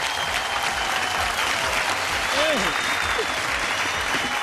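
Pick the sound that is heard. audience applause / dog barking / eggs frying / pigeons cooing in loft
audience applause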